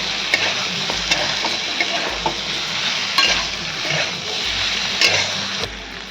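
Sautéed vegetables, drumsticks and pumpkin, tossed with spices in hot oil: a steady close sizzle with scraping stirs and occasional spoon knocks against the pan, no talk.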